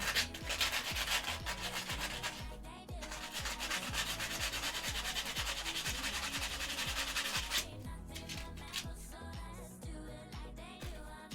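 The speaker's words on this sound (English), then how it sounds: "Sorry if this scratching sound's hurting anybody's ears." Sandpaper rubs briskly over a cosplay craft piece in rapid, rhythmic back-and-forth strokes, a loud, close scratching that continues steadily throughout.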